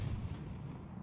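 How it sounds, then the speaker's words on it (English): A ship's cannon in the naval multiplayer game BlackWake fires a single heavy boom at the start, followed by a rumbling decay that fades over about a second. "he shot the cannon for the grapple"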